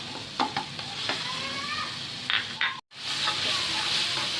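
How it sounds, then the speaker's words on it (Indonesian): Spice paste for sweet and spicy cashew nuts sizzles steadily while being sautéed and stirred in a pan, with a continuous close frying hiss and occasional scrapes and taps of the utensil, briefly cut off near the end. "Makanya ini saya tumis dulu sampai matang."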